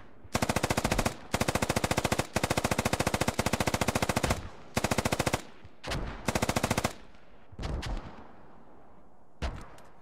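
Loud machine gun fire in the video game Squad, with long rapid automatic bursts and short gaps between them, later dropping to shorter, sparser bursts and echoing tails.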